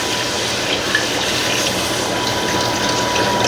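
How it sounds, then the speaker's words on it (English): Water pours steadily into a cooking pot from a tap, with a continuous gushing, rushing flow at close range and no talking. "So I'm going to add basically water."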